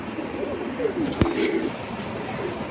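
An Allahabadi teddy pigeon coos softly, held in hand in Wadala East, Mumbai, a low rolling warble repeated a couple of times over steady background hiss, with one sharp click in the middle.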